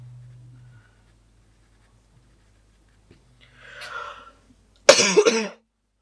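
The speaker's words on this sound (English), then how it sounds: "this cough, I swear. It is fierce and ridiculous." After quiet and a soft rustle, a single harsh cough bursts out loudly up close near the end.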